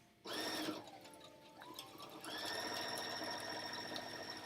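Sewing machine stitching a fabric basket, a steady mechanical whir that starts abruptly, dips briefly, then runs on loud and continuous with a high tonal hum.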